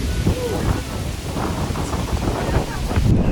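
Heavy rain pours down at a large outdoor gaming event, with rumbling low thunder-like roars under a steady wash of falling water and a few voices faintly in the background.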